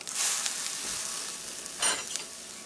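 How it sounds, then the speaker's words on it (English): Nathan's hot dogs frying in a hot pan: a steady, close hiss of sizzling with a brief louder flare toward the end, no voices. "And then we're gonna fry them up."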